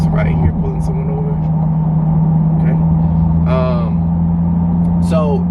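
C8 Corvette fitted with a Corsa Extreme exhaust cruising, a steady low engine drone heard from inside the cabin, continuous and fairly loud, with someone talking over it.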